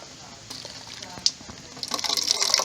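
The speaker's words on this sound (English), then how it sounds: "You want to soak it until water starts coming out of that spout." Water that has soaked through soil in a rainy-day erosion experiment gushes and trickles out of a spout into a collecting container, building to a steady splashing flow near the end after quieter handling noises.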